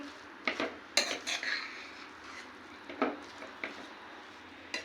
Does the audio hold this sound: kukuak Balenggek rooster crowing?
no